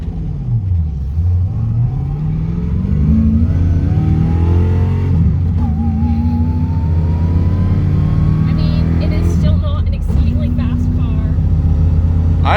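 A Lexus LS400 with a five-speed manual accelerates hard, its engine note climbing steadily through a long pull, then dropping and rising again on a shift, loud and continuous from inside the cabin.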